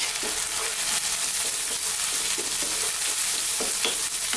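Tomatoes cooking in a pan with green cardamom, salt, turmeric, chilli, coriander and cumin powders for an Indian keema kofta curry, giving a steady close sizzle with occasional stirring scrapes throughout, no voices.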